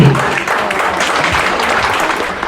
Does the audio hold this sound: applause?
yes